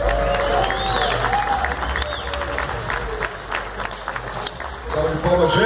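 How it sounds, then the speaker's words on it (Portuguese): Audience applause and cheering after a sound-poetry performance in a city setting, a crowd clapping with whoops while voices call out over it, the clapping swelling again near the end. "Salve de palmas, gente."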